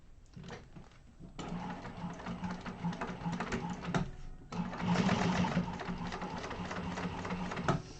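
Sewing machine top stitching a fabric sling at 1/8 inch, a rapid mechanical whirring with a steady hum, running in bursts with brief pauses, close and fairly quiet with faint room noise.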